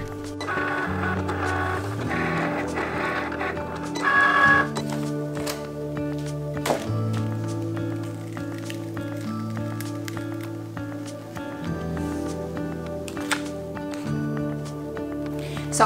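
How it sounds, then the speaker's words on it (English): A Cricut Explore Air 2 cutting machine at work, a steady mechanical whir with shifting motor tones and short clicks as the carriage moves back and forth, heard alone at moderate level. "I'm just going to go ahead and hit make it, and it's cutting"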